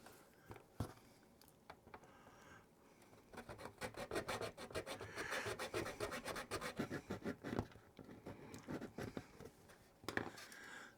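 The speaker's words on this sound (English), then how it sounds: "I'm actually going to get my coarse sanding stick and a file and start working." Coarse sanding stick and file rasp against a plastic model starship part in close, repeated strokes, quiet at first, then building into a dense run of quick scraping passes before tapering off, with no speech.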